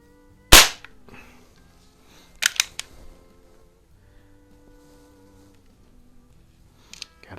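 A Crosman 66 Powermaster .177 multi-pump pellet rifle is pumped, with sharp mechanical clacks and quick rattling strokes in bursts separated by quiet gaps, close and loud.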